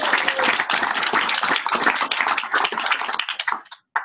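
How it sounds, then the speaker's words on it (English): An audience at a tech meetup claps for the organizers, a close, crisp burst of applause that thins out and stops near the end. "How about a round of applause for these organizers and relaunching this meetup?"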